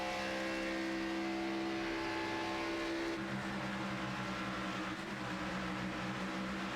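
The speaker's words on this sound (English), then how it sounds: "Start to hear these drivers pedal the car on corner entry." Race cars in an AMA Pro Cup e-sport racing video game, engines droning steadily and shifting pitch as drivers pedal the throttle on corner entry, a continuous loud layered engine roar with no talk.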